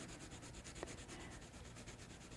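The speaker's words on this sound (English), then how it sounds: "I'm going to show you burnishing with white here." A white colored pencil burnishing over layered color on paper makes a faint, steady scratchy rubbing close up, with no talk.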